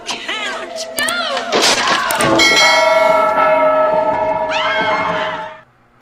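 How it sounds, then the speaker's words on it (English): A bell rings out loudly with long, shimmering metallic overtones that sustain and slowly fade, following a brief burst of clanging and jumbled noise, then the tone cuts off abruptly. "Not that bell, this bell."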